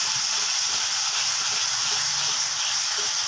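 Ground spice paste sautés in a hot pan for a coconut-milk cassava leaf stew, a steady, even sizzle and hiss that runs unbroken and fairly close, with no talking over it.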